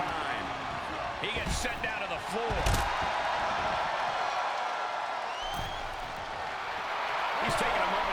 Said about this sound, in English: He's getting a huge boost right now from all those chants and cheers.